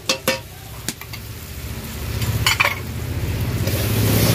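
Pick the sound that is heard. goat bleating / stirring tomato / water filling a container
stirring tomato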